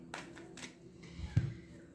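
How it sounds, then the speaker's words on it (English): Tarot cards are riffled and shuffled by hand in quick, soft bursts of flicking paper, close up and quiet, with a light tap near the end and no one speaking. "I think that's enough shuffling."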